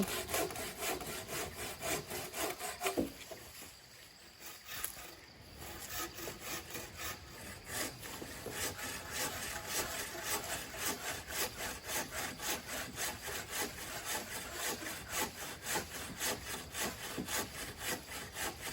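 A hand saw cuts through a large tree branch for firewood in steady back-and-forth rasping strokes, briefly pausing early on before resuming a fast, even rhythm.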